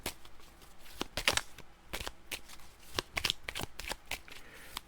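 Playing cards are shuffled at a table during a game of The 7th Continent, with several quick, crisp riffle bursts close by and short pauses between them, and no voices.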